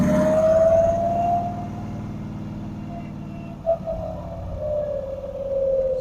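A C3 Corvette engine pulls hard in first gear then revs up again after a shift, a loud, rising drone with a brief break midway, close to the car.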